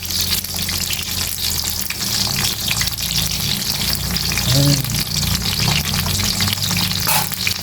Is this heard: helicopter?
no